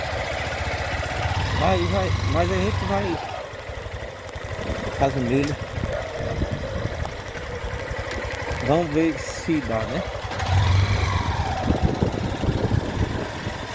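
Motorcycle engine running while riding through Pereiro in Ceará, a steady mid-low rumble with revving rises and falls, heard under someone talking in Portuguese.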